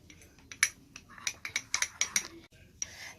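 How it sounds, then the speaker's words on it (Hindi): A spoon clinks and scrapes against a small bowl as turmeric is mixed into coconut oil to make a paste, a quick series of bright metallic taps close by, with a voice faintly in the background. "इसको हम अच्छे तरीके से इसमें मिक्स कर लेंगे"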